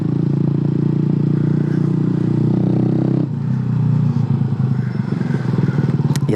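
A motorcycle ridden without its exhaust silencer drones loudly and steadily, then the pitch and load shift midway into a rougher, crackling note.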